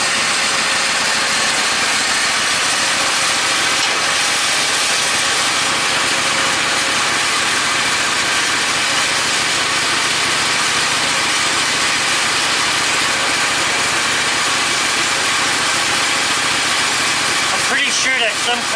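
Woodmizer LT15 sawmill engine running steadily while cutting shingles, a constant loud drone with sawing noise throughout and no talk.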